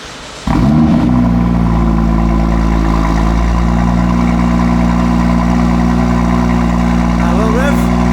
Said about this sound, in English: we can hear this lovely N55 starting up from cold